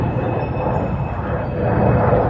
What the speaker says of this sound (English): Every 5 seconds, it's always a plane flying over.